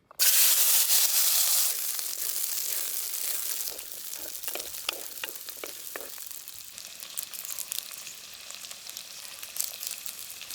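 Small onions frying in a little oil in a pan for a chicken kofta curry, a steady close sizzle opening loud, then settling into a crackling fry with brief stirring scrapes.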